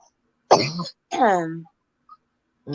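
Two harsh coughs from a person recovering from pneumonia, close and loud, separated by a short pause, with a brief vocal sound trailing at the end.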